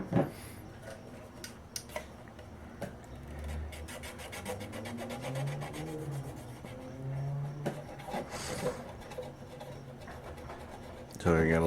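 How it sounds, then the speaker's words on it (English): Alcohol-soaked rubbing on a GI Joe Adventure Team Avenger Pursuit Craft toy to lift sticker glue residue, a steady scraping, rasping friction that continues close up through most of the stretch, with a few sharper knocks at the start and end. "go ahead and get started with removing some of this residue with the alcohol."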